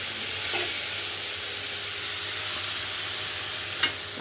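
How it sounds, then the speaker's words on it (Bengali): Bitter gourd slices fry in a pan with a steady broadband sizzle and hiss, close and continuous, with a brief clink near the end and no talking. "এই জন্য এখন রান্না করতেছি, করলা ভাজি করতেছি"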